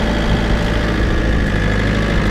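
A small tractor engine runs out of gear while spreading fertilizer and lime, a loud, steady, close idling rumble with constant vibration and no talk.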